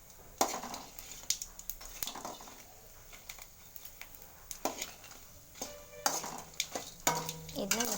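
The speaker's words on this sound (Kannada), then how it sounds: "ಸ್ವಲ್ಪ ಬ್ಯಾಡಗಿ ಮೆಣಸಿನ್ಕಾಯಿ ಹಾಕಿ ನೀಟಾಗಿ ಬಾಡಿಸ್ಕೊಳ್ಳೋಣ" Byadagi red chillies roasting in oil in a pan: a faint, steady sizzle broken by scattered stirring scrapes and metal clinks against the pan, quiet and close, with no talk.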